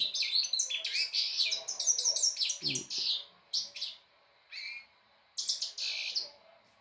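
Birds at an outdoor feeding spot with wet feed give quick bursts of high, bright chirps and tweets, close by. The calls come in clusters separated by short silences.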